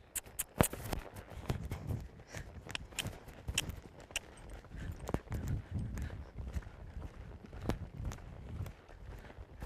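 A horse loping on the ground, with irregular hoof thuds and clip-clop beats repeating through the clip at moderate distance, without talk.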